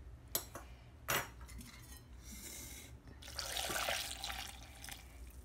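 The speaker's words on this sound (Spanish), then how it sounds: "Yo le voy a agregar solamente la mitad de esta agua." Cloudy water left from cooking tomatoes is poured into a kitchen blender after a couple of sharp clinks of utensils, turning into a steady, close splashing pour for a few seconds, quiet overall.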